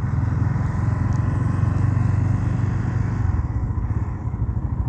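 Motorcycles rumble and pass along a town street in União dos Palmares, a continuous engine drone with some clatter and revving, fairly close and with no talking.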